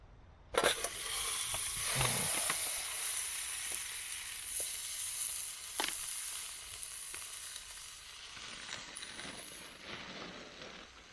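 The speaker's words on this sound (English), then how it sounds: "Wait for the sizzle." A T-bone steak sizzles loudly and steadily in a hot pan outdoors in the woods, with a constant crackling hiss and a few sharp pops.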